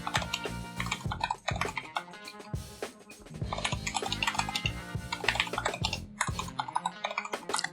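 Code is typed on a computer keyboard with brisk, uneven bursts of close, clicky keystrokes and brief pauses between runs.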